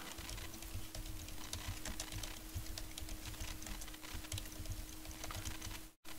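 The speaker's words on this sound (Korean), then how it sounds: "열심히 쳤더니 영문으로 돼버렸어. 다시 치는 거예요." Steady, rapid clicking of fingers typing on a computer keyboard, close and continuous over a faint electrical hum, with a brief dropout near the end.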